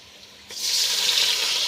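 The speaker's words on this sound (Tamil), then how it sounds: "இந்த கப்பாலே வந்து தண்ணி அளந்து ஊற்றிக்கலாம்." Water poured from a measuring cup into a pan of roasted semolina (rava) for upma, a sudden loud hissing rush that starts abruptly and keeps going steadily, close by.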